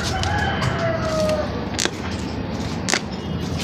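A rooster crows and clucks nearby in a household yard, loud bursts with a few short calls standing clear over a steady background.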